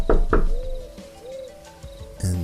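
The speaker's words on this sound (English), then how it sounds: "I knocked one more time out of desperation" Two sharp knocks on a building door land close together, followed by quieter rustling and creaking, then another thud at the end.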